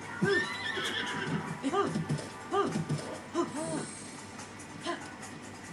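Several horse whinnies and neighs ring out in Zelda: Tears of the Kingdom, fairly close and loud, with occasional hoof clops and a faint voice between the calls.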